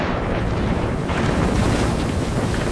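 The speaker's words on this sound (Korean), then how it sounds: "바람이 너무 미친듯이 세게 불어서 오래 머물지는 못했습니다" Strong wind rushes over the open rim of Darangshi Oreum crater on Jeju, buffeting the microphone in a loud, constant roar with gusty swells and no voices.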